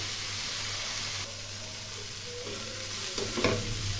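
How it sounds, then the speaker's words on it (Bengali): Ash gourd stirred and fried in a pan over a medium flame, a steady soft sizzle with scraping stir strokes, close and continuous, growing slightly busier toward the end. "মিডিয়াম ফ্লেমে বারবার করে নেড়ে নেড়ে ভেজে নিতে"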